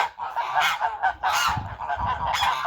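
Geese honk loudly and close at hand around a farmyard pen in a Ukrainian village, with a gander among the flock giving repeated harsh calls in overlapping bursts and no speech.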